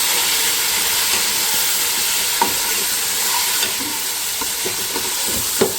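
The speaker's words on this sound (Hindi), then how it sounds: "अब मैं इसके साथ भूनूंगी ना तो ये लहसुन अदरक का जितना भी फ्लेवर है वो इस गोश्त में आ जाएगा" Beef sizzling and frying loudly with garlic ginger paste as it is stirred in the pot, a steady hiss broken by scraping stir strokes, with no one speaking.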